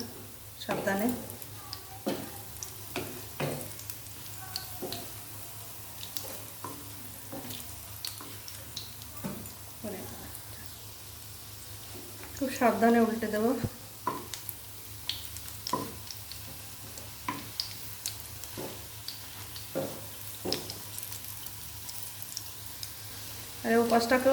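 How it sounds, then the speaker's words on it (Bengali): Oil sizzles steadily in a wok while fish roe fritters fry, with occasional clinks of a utensil and a brief louder burst of bubbling midway. "এবার এক পাশ ভাজা হয়ে গেছে উল্টে দেবো বড়াটা"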